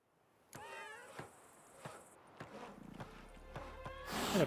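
A house cat meows in The Witcher 3, several rising, wavering cries spread across a few seconds amid game sound effects, with a brighter burst of noise at the end.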